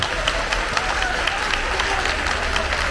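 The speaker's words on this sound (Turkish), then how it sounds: "yürekten alkış hak ediyor gerçekten" Applause from the crowd at a folk association evening for a Balıkesir village society, a steady wash of clapping with scattered louder claps, continuous and even.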